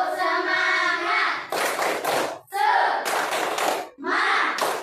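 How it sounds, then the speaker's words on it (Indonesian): Schoolchildren in a classroom perform a rhythmic clapping chant, bursts of group hand claps alternating with short sung or shouted phrases in a repeating pattern. "kita tepuk semangat"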